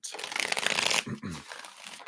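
Tarot cards are shuffled close up in a quick, crisp riffle that lasts about a second, followed by softer card handling.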